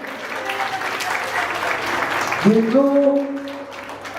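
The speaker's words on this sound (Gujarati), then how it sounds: "એક વાર જોરદાર તાળી જાય." An audience gives a loud, sustained round of applause throughout, with a voice speaking over it and a brief sung or held tone near the end.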